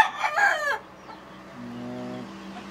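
A sport butcher gamecock kept as a broodcock crows loudly and close at the start. A quieter, lower drawn-out call follows, with no voices.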